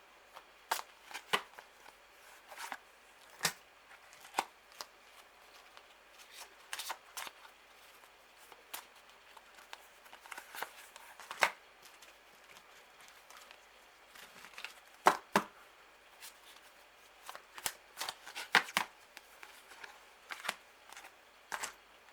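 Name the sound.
shuffling tarot cards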